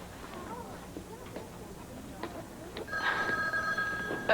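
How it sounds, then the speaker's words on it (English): A telephone rings in the background with a faint electronic trill starting near the end, partly under a woman's speech. "I gotta get the phone."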